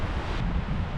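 Wind blows off a frozen alpine lake in snowy mountain country, a steady, close, full-bodied rush buffeting the microphone for the whole second with no voices.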